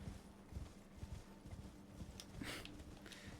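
Hooves clip-clop in a steady, moderate walking rhythm from a horse in the video game Elden Ring, with a brief brighter flourish near the end, all heard alone without speech.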